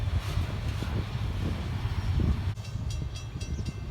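A westbound CSX freight train passes as a loud, continuous rumbling roar of wheels and cars on the rails, heard outdoors at trackside without any voices.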